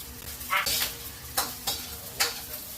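An ulam burger patty fries in a pan with a steady low sizzle, broken by a few sharp utensil scrapes and clinks against the pan, fairly quiet and with no voices.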